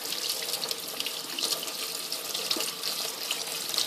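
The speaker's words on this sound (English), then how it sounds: "Washing my hands." Hands being washed under a running tap give a steady, close rush of water into a sink, with small splashes and shifts as the hands move through the stream.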